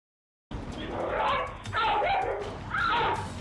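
Several loud, close dog barks with growling and whining come in three bursts during a dog attack on a smaller dog named Max in a neighborhood feud.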